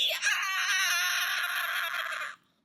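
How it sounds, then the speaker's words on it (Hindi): A naughty monkey shrieks with its tail pinched in a crack, one long, loud, wavering high scream lasting about two seconds before cutting off abruptly, heard alone. "नटखट बंदर बड़ी कस के चीखा"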